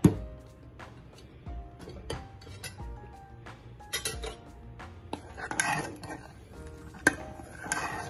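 Moong dal being scooped out of a cooking pot in a home kitchen, with repeated clinks and scrapes of a metal spoon against the pot, irregular and close, over a faint steady background hiss.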